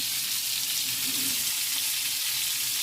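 Fish meatballs sizzle steadily in a hot frying pan, a constant crackling hiss with no voices.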